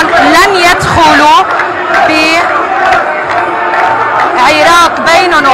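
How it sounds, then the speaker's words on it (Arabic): Protesters chant together at the Lebanese parliament, a loud, close crowd of voices calling out a rhythmic slogan of peacefulness in repeated rising bursts, with shouting and chatter woven through. "عم نسمع هتافات السلمية"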